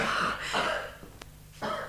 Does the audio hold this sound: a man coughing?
yes